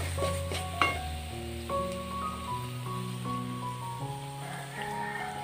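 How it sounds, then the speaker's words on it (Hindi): Spiced masala sizzles steadily in hot oil in a home kitchen, a continuous close frying hiss running beneath prominent tonal background music. "इधर मसाला फ्राई हो रहा है"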